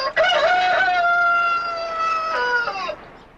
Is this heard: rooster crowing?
yes